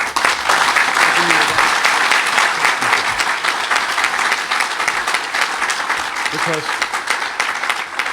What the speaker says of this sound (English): you got to give him a round of applause